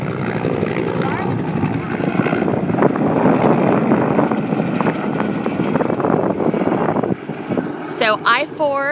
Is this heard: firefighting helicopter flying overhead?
yes